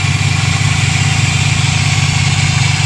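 A Chrysler PT Cruiser's 2.4-liter four-cylinder engine with a specially designed intake idles steadily close by, a low, even rumble holding constant with no voices over it.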